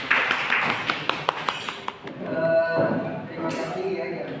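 Classroom students clap in a short ragged burst of distinct claps, fading after about two seconds, with voices murmuring afterward.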